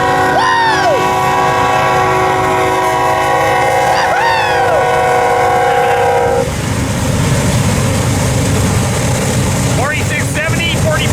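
A double-stack freight train departs westbound near Barstow, California, on the Needles Subdivision. Loud horn blasts sound at close range over a heavy rolling rumble that continues steadily as the train moves off.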